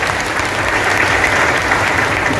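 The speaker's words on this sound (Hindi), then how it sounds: "एक बार अपने लिए जोरदार ताली बजाओ" An audience of people at a motivational seminar breaks into loud, dense applause, a close and steady wash of clapping that runs through the whole short stretch without talk over it.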